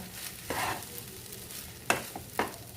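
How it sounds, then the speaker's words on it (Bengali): A spoon stirs and mixes mankochu taro in a pan over low gas, soft scraping strokes over a gentle sizzle, with two sharper scrapes near the end. "এবার এটাকে গ্যাস কমিয়ে দিয়ে নেড়ে মিশিয়ে নিচ্ছি সবটা"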